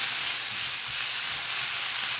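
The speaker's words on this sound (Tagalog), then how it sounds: "Itutuloy ko lang yung pag-isa hanggang lumambot na yung sibuyas ng tuluyan." Garlic, onion, ginger and chili sizzling steadily in a hot pan, a continuous close frying hiss with no pauses and no voices.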